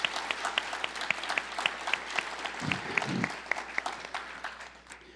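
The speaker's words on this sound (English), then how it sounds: "give a round of applause to all of the Christ Church choir members that are sitting right over there" Sparse, scattered clapping for a church choir, with individual claps clearly separated, fairly quiet and thinning out toward the end.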